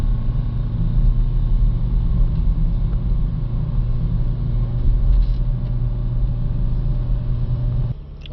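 Renault Trafic van with a clogged diesel particulate filter drives along the road, its steady low engine rumble and road noise constant and close, easing off slightly near the end; no talking.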